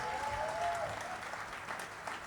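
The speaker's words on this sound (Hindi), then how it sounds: "अच्छे से बजाओ तालियां एक बार पीछे तक" Audience applause at a poetry recital gathering (kavi sammelan) on an Adda stage, a dense steady wash of clapping lasting a couple of seconds, fairly close with a faint tonal whistle early on.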